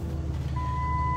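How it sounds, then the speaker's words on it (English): A steady high electronic beep tone starts partway through over a low rumbling vehicle engine idle, like a truck's reversing alarm. "And my truck is beeping over here."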